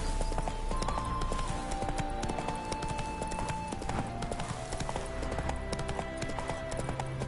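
The horse Roach gallops in The Witcher 3 with a quick, continuous clip-clop of hooves and short, sharp hoof strikes over a soft musical soundtrack, close and steady.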